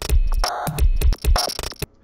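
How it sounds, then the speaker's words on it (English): Reaktor Random Step Shifter loop-chopping ensemble playing a sample loop: loud stuttering electronic fragments with punchy bass hits and abrupt cuts, rearranged beat slices in an irregular rhythm, close and alone. "I can load an ensemble like Random Step Shifter, which is a loop chopping ensemble"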